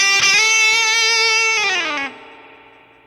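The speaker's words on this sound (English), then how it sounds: "So that's the spring reverb on both." Electric guitar with a spring reverb on a Neural DSP Quad Cortex: one sustained, slightly distorted chord rings out loud and alone, then a bend drops the pitch and a springy, washy tail trails off.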